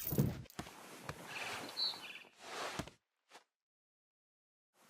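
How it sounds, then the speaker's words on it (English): Barn swallow chirping outside a window in What Remains of Edith Finch: a few thin, high chirps over a soft rustling game ambience, then near silence with brief faint ticks. "Then I heard chirping outside my window. It was a barn swallow going back to her nest."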